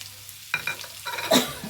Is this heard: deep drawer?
no